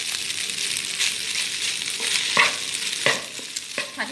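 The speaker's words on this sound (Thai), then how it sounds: "ใส่ข้าวแล้วเราก็ผัดให้เข้ากัน" Rice being stir-fried with shrimp paste and salted fish in a pan, a steady broad sizzle broken by a few sharp scrapes and clinks of the spatula against the metal, close and fairly loud with no talking.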